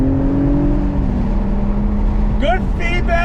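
A 2021 Acura TLX Type S accelerates on throttle with a loud engine drone that climbs in pitch and then shifts, heard from inside the car, and a voice speaks briefly near the end.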